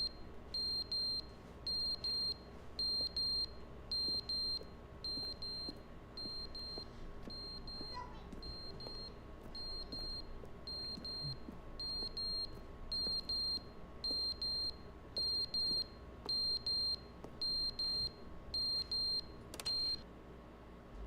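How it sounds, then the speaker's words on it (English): Electronic beeping in The Stanley Parable video game repeats in regular short bursts of high tones over a low steady hum, continuing throughout at moderate volume. "How's that beeping?"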